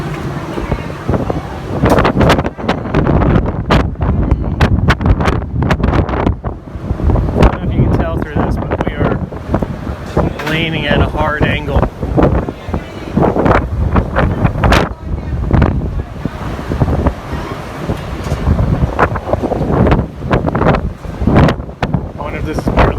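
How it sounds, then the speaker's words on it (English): Strong wind roars and buffets the microphone on the deck of the Carnival Liberty cruise ship at sea as a winter storm approaches, a constant loud gusting rush throughout while a person talks over it. "Pretty dang windy."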